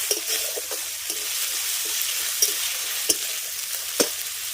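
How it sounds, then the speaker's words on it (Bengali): Onion frying with ginger, garlic and green chili paste in a pan, a steady close sizzle broken by a few sharp spoon scrapes and taps against the pan. "পেঁয়াজটাকে ভেজে নেওয়ার পর দিয়ে দিচ্ছি আদা রসুন আর কাঁচা লঙ্কা বাটা"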